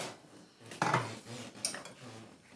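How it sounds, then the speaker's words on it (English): Rice is scooped into a bowl with a couple of clinks of a utensil against the dish and soft scraping. The sounds are close and brief, in a quiet kitchen. "So I'm going to scoop some rice into his bowl."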